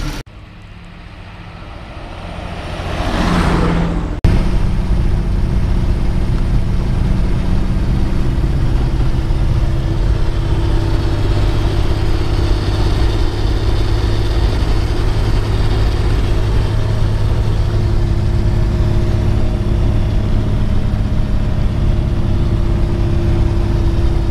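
A 1930 Willys Overland Whippet 6 Deluxe touring sedan engine starts up and settles into a steady, loud, low idle that runs unbroken and close for about twenty seconds, with no talking.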